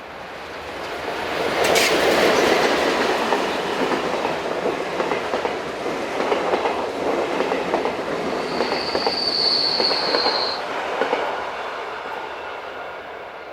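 Swiss RE44 electric locomotive hauling a Bellinzona to Basel passenger train, passing with a steady rolling rumble, wheel clatter and a brief high squeal of wheels midway, loud and close.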